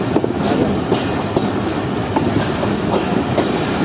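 The Jaffer Express passes Attock Khurd railway station, heard from aboard. A dense, steady rumble comes with repeated clickety-clack beats from the wheels over the rail joints.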